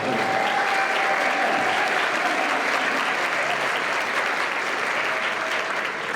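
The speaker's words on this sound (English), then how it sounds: "Give yourself a round of applause." An audience applauds at a community band Christmas pops concert, a full steady roar of many hands clapping together, close and loud, filling the hall without a break.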